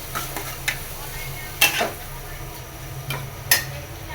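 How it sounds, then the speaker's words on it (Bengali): Liver bhuna spice paste of onion, ginger-garlic paste, turmeric, chili powder, garam masala and salt stir-fried in a pan: quiet, sporadic spoon scrapes and a few sharper clinks over a faint, low sizzle. "কলিজি ভুনা করব, মশলাটা ভালোভাবে কষিয়ে নিচ্ছি।"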